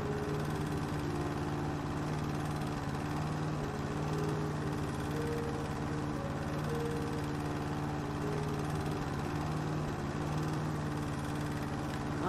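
A small corded lawn mower runs in the House Flipper video game, giving a steady mid-pitched engine drone with a constant hum that holds evenly for about twelve seconds, with no talk over it.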